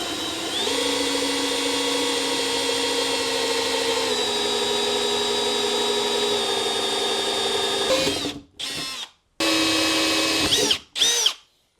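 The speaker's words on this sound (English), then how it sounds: "this is a 1 1/8 inch hole saw. And we're going to use this on the 2 inner holes that we just drilled" A power drill spins a 1 1/8 inch hole saw while cutting holes during a bow motor install on a kayak, a loud steady whine that breaks into several short bursts with gaps near the end.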